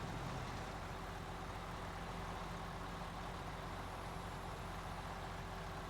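An FLD 120 truck engine in the video game SnowRunner runs with a steady, even rumble and hiss, continuous and unchanging, with no voices.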